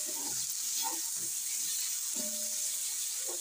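Tomatoes and spices frying in a pan sizzle with a steady high hiss throughout, quiet and close, while a voice talks softly underneath.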